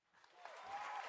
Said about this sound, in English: I was trying to hit the applause